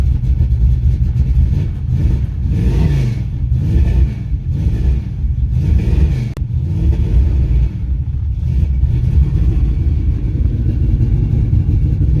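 The engine of a 1986 Chevrolet C10 truck runs steadily close by, a loud low rumble with a few rising revs early on, then settling into an even idle.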